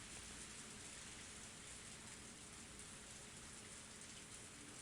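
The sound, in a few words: torrential downpour in the video game Higurashi: When They Cry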